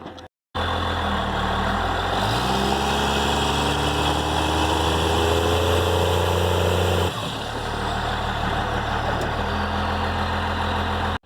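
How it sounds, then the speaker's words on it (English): A Dodge Ram 2500/3500 pickup with a Cummins diesel engine idles on its stock exhaust, a steady close rumble with a whining turbo tone; the pitch shifts briefly midway before settling back into a constant idle. "let's hear that stock exhaust one more time."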